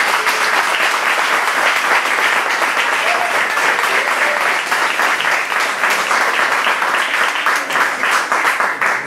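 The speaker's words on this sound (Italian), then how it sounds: "vorrei dedicarle un calorosissimo applauso, Loredana De Francisci." Sustained, loud audience applause fills an indoor bodybuilding Grand Prix event in Sestri Levante, a dense steady wash of clapping hands that continues unbroken throughout.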